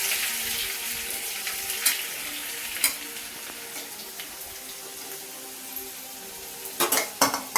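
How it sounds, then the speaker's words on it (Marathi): Onion frying in hot oil in a kadhai, a steady close sizzle with occasional sharper crackles and stirring clinks against the pan. "चला आता कांदा टाकायचा भाजायला।"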